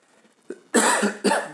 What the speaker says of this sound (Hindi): कॉन्टीन्यूस बोलने में क्या होता है कफ होने लगती है खांसने लगते हैं